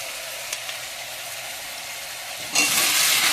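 Food fries quietly in a pan with a soft, constant hiss that swells suddenly louder near the end.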